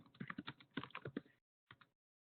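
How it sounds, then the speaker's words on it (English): Quick, close clicks of fingers typing on a computer keyboard come in a dense burst, then a pause and two final taps before silence. "She's typing that."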